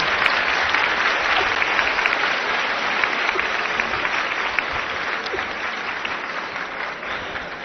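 A television studio audience breaks into sustained applause for politicians, a loud, thick, continuous roar of many hands clapping at once, with no talking over it.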